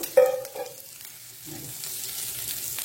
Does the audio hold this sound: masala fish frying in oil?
yes